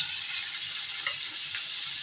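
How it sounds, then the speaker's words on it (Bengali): Water lily stems frying with shrimp and chilli in a pan make a steady, fairly quiet sizzle with soft crackles, heard close and alone throughout. "চিংড়িগুলো ভাজা ভাজা চারিদিকে আমি শাপলাগুলো দিয়ে দেবো"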